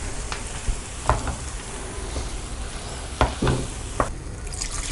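A spoon stirs ground paste into green peas pulao frying in a pan, with steady sizzling throughout and several sharp scrapes and clinks of the utensil against the pan.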